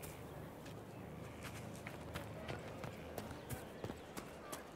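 Horses in the Skyhold stables in Dragon Age: Inquisition, a soft scatter of hoof clops and small thuds at a moderate distance, heard quietly beneath a speaking voice.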